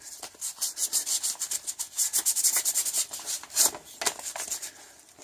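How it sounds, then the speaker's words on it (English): Sandpaper lightly sanding a painted long shaft, a rapid series of short scratchy rubbing strokes, close and fairly loud, repeating steadily with brief pauses and no talking. "This is just a really light sanding."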